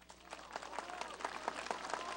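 A crowd claps briefly, a steady patter of many hands at moderate distance, fairly quiet.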